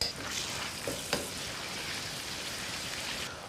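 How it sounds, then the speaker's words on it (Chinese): Ginger, scallion, garlic, dried chili and a spoonful of Sichuan bean paste sizzling in a little hot oil in a wok, a steady close crackling fry with a couple of soft scraping stirs, no voices. "锅内来少许的油，先下姜、葱、蒜末。"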